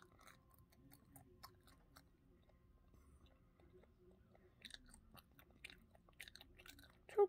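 Someone chewing jelly candy close to the microphone, soft, sticky mouth sounds and squishy bites that start quietly and grow into clearer wet chewing toward the end, with a louder click at the close.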